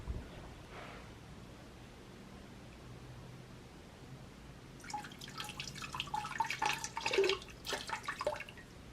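Ceramic glaze is poured over a pottery fountain piece, starting as a quiet wash and then breaking into a burst of close trickling and dripping that patters unevenly for a few seconds.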